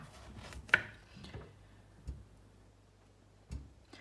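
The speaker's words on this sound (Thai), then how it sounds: "ต่อไปเรามาทำการหั่นเลยค่ะ" Washed purple eggplant is cut into large chunks on a board, three sharp, isolated knocks spaced more than a second apart, close and fairly quiet with no talking.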